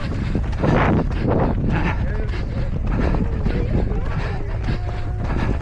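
Cold wind blasts the microphone during an outdoor 5K race, a loud, continuous buffeting roar with voices faintly mixed in beneath it.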